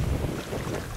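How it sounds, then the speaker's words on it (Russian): Steady roaring wind buffets the microphone on a -31°C day while fishing for vendace, a dense low rumble with broadband hiss, loud and unbroken throughout. "вот такой вот ветер"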